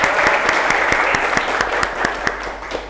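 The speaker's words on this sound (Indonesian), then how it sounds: "Terima kasih, tepuk tangan." Classroom of schoolchildren applauding together, a steady dense patter of many small hands with a few sharper individual claps standing out, fairly close and loud with no talk over it.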